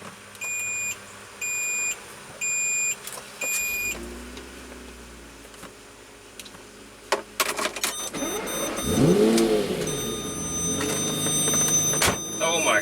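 A Lamborghini Murciélago engine fires up and accelerates after a run of electronic beeps, its roar swelling and rising up close while driving.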